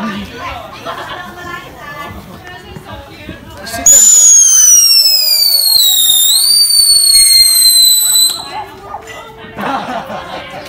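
Screaming fireworks on a Fourth of July night at a backyard celebration let out a loud, whistling shriek that rises and wavers for several seconds, with crowd chatter before and after.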